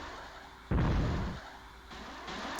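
A ship self-destructs in the space game Escape Velocity with a single loud, deep booming blast that rumbles briefly and then fades back into the low background hum.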